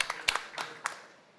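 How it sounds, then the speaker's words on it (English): Scattered hand claps from a small conference audience at a hydrogen valleys event, a few separate sharp claps spread over a second and a half, fairly faint and thinning out. "a big applause for the wish of Herald"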